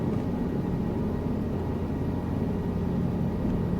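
A helicopter flies over Saudi Arabia in Microsoft Flight Simulator 2024, a steady low rotor and engine rumble, even and unbroken throughout with no talking.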